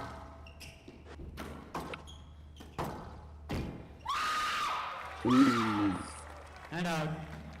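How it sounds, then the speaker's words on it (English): A player shouts loudly during a squash quarterfinal on a glass court at the JSW Indian Open 2025, the cry rising over ball thuds, squeaks and crowd noise, with commentators talking before it. "That scream says it all, doesn't it"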